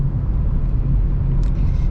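A car overtakes from behind on a highway, heard from inside a moving car as a loud, steady low road rumble with a brief rising whoosh near the end.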